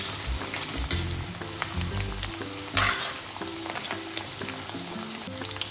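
Onions fry in hot oil in a pan, with a steady close sizzle broken by the scrape and clatter of stirring.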